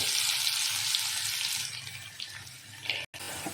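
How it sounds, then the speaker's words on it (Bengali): Chopped ginger fries in hot oil in a pan, giving a steady, bright sizzle up close that gradually softens, with a brief cut near the end. "আদাটা দিয়ে আরও তিরিশ চল্লিশ সেকেন্ড কিন্তু আমি একটু ফ্রাই করে নেব"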